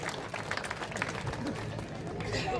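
A crowd claps steadily to welcome a guest at a college event, a dense, continuous patter of many hands with murmuring voices mixed in.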